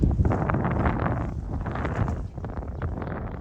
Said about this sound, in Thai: ลมดีครับวันนี้ครับ